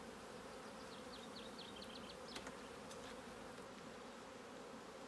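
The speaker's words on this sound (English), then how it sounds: "And as all the forager bees come back," Steady insect buzzing fills an apiary, a low droning hum of many forager honey bees with a few faint chirps above it.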